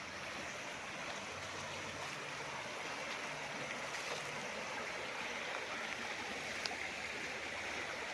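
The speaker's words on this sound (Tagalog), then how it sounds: "Running water yan" A stream runs across a rural farm lot with a continuous broadband rush of flowing water, steady and moderately close, with no talk over it.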